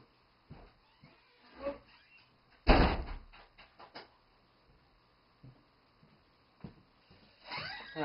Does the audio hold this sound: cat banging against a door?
yes